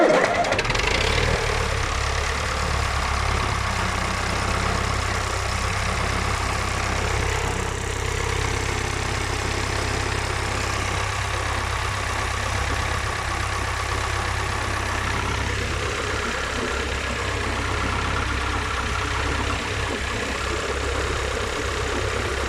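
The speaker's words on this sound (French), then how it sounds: "c'est un moteur qui démarre très bien" A Someca 715 tractor engine starts and settles into a steady, loud idle, its low rumble and chugging continuing evenly throughout with no talking.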